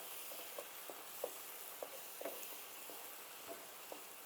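Kabsa masala mixture being stirred in a pan, heard as a soft, faint sizzle with a spoon scraping at a fairly regular pace.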